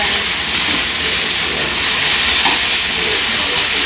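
Potatoes fry and brown in a hot pan, giving a loud, constant sizzling hiss that holds steady throughout with no voices.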